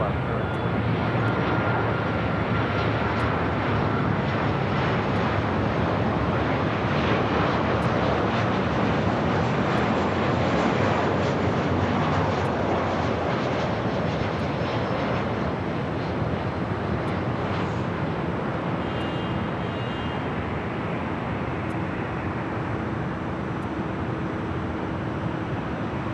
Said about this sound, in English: It's the 737-800 United in the Star Alliance livery.